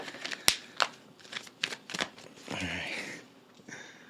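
Tarot cards being shuffled and drawn: a run of crisp, close paper snaps and flicks in an uneven rhythm, with a longer rustling riffle near the middle and lighter taps after, no voices.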